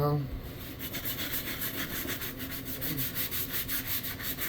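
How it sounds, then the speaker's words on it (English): A brush scrubs a soap-foamed shoe in quick, rhythmic back-and-forth strokes, a close, raspy swishing that repeats steadily with a brief low voice at the start. "Start with the scrubbing."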